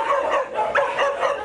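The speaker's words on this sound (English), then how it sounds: "A 47-pound, 6-month-old, energetic pit bull." Young pit bull puppy, a 47-pound, 6-month-old energetic dog, giving repeated yappy barks and whimpering yips in a steady run, fairly close with no talking over it.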